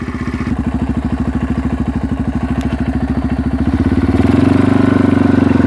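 A 1997 Yamaha Timberwolf 250 quad's engine runs close and loud with a steady rapid thumping idle, then revs up to a higher, stronger pitch near the end.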